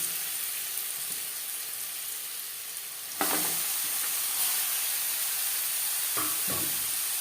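Diced papaya hitting hot oil already tempered with bay leaves and whole cumin, a loud sizzle bursting in midway and settling into a steady fry with a couple of stirring scrapes near the end.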